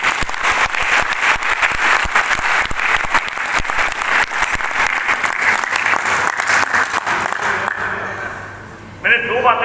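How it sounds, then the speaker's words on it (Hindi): An audience at a money-making seminar breaks into loud, sustained applause with crowded overlapping claps that thin out and fade near the end. "तो एक बार जोरदार तालियां अपने लिए बजा कर दिखा दो।"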